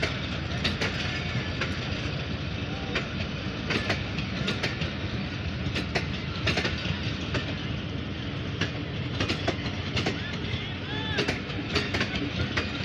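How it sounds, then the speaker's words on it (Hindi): A GU 40 locomotive accelerates as a mixed passenger rake of CNR and CFI coaches passes a Pakistani station, with loud, continuous, close rumbling and a steady clickety-clack of wheels over rail joints. "ये GU 40 ने एक्सेलरेट करना स्टार्ट कर दिया है।"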